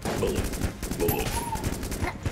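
Rapid gun blasts from Enter the Gungeon fire in a quick, steady stream of sharp shots, close and fairly loud, with no voices over them.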